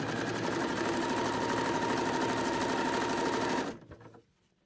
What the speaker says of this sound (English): we're going to start at the short edge of the satin on the back. I'm going to sew the neckline.